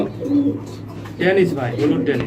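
A pair of yellow Danish pigeons coo close by in a loft at a pigeon farm, soft repeated low coos with some background voices.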